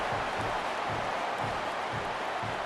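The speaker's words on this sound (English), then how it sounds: "Listen to the crowd." Crowd roar in an EA Sports College Football 27 championship game after an Aggies touchdown, a steady, dense wash of cheering that holds at an even level throughout with no voices on top.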